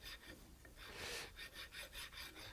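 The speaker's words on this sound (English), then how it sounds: "Get the flat file. Gently." A flat file scraping hardened epoxy on a smashed Wilton 3-axis vise under repair, a series of soft, quiet rasping strokes close by with a slightly stronger stroke in the middle and no talk.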